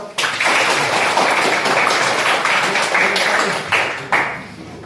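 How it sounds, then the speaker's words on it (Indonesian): A class of students breaks into lively applause, many hands clapping in a dense, sustained burst that stops abruptly near the end. "Tepuk tangan."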